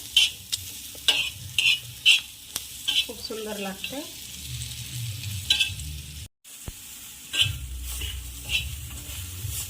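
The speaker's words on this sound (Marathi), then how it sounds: "फ्राय करून घ्यायचं आहे कुरकुरीत करायचं आहे" Green chillies crisping in hot oil in a pan give a close sizzle broken by sharp stirring scrapes and clinks, with a short spoken phrase partway through and a brief gap.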